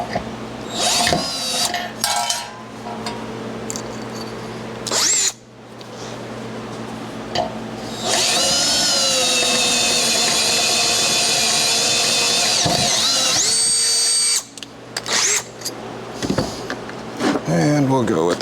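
A power drill bores with Harbor Freight drill bits while mounting a gas tank on an XLCH chopper, the motor whining steadily for several seconds between short bursts and clatter, close and loud.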